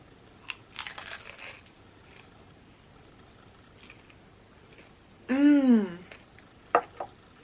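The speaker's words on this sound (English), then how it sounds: "I'm gonna start with a samosa. Cute little triangle. I'm gonna dip it in the spicy mango sauce." A crisp samosa dipped in spicy mango sauce is bitten, with a faint crunch early on followed by quieter chewing, and a short voiced sound and a few clicks near the end.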